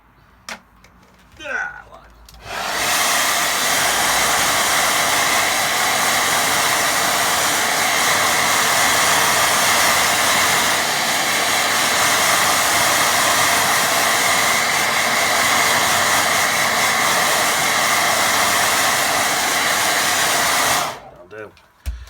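Hair dryer blowing steadily on a watercolour painting, a loud continuous whoosh switched on after a few seconds and running unbroken for about eighteen seconds before cutting off.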